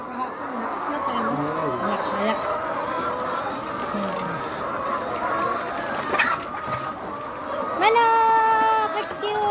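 Chickens clucking and calling at a poultry farm, a busy flock heard close around with scattered clucks and a louder squawking call near the end, while a person talks over them.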